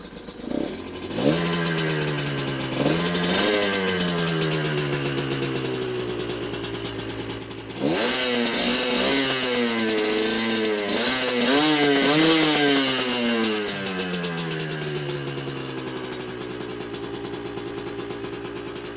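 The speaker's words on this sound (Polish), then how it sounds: "Posłuchajmy jeszcze, jak pracuje charakterystyczny motor dwusuwowy" A two-stroke Asix XR99 250 2T dirt bike engine, loud and close, rises and falls in pitch as the throttle is blipped repeatedly.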